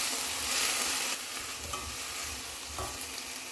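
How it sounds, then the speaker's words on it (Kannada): Chopped tomatoes and onion frying in a pan on high flame for tomato chutney, a steady close sizzle with occasional stirring scrapes and no talking. "ನೆಕ್ಸ್ಟ್ 4 ಕಾಯಿ ಟೊಮೆಟೊ ಈ ಥರ ಹೆಚ್ಕೊಂಡು ಹೈ ಫ್ಲೇಮಲ್ಲಿ ಇದನ್ನು ಫ್ರೈ ಮಾಡ್ಕೋಬೇಕು."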